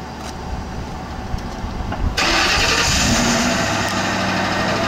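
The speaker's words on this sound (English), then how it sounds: "turn on the car, make sure it runs." A police squad car's engine starts after a quiet lead-in, then settles into a loud, steady idle that runs to the end.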